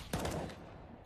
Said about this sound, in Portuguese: Um tiro de scout mata o Sergei.